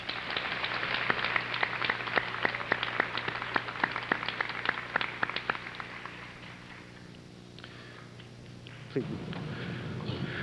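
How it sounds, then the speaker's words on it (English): Audience at a high school senior recognition day ceremony applauding, a steady wash of many hands clapping that fades out toward the end, leaving quiet room tone. "Please give them a well-deserved round of applause."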